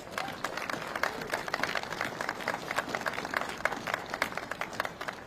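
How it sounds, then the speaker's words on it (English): An audience applauds the Milwaukee County Zoo team at a penguin habitat ribbon-cutting ceremony, a steady, dense crowd clapping that holds evenly throughout. "Can we give our Milwaukee County Zoo team a round of applause?"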